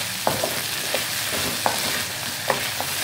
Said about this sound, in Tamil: கத்திரிக்காயும் வதங்கட்டும்